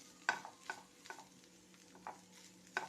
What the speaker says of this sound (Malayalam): കുറച്ച് സമയം കൂടെ ചെക്കി ഉലർത്തി എടുക്കാം